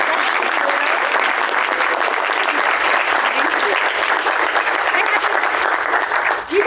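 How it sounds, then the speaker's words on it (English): Sustained, loud applause from an audience at a live pizza-making event, dense clapping that holds steady for several seconds with no individual voices standing out. "Everybody give a round of applause."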